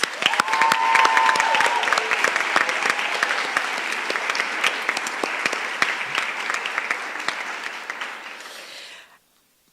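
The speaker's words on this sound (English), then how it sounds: "Let's give her a round of applause." Audience applause fills a school assembly hall for a senior school summer sports awards event, a steady dense patter of many hands clapping loudly for about nine seconds before cutting off abruptly.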